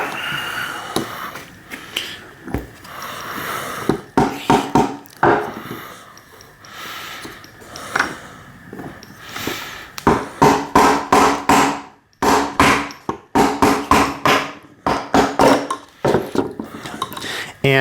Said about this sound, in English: I'm going to use my mallet to kind of tap down.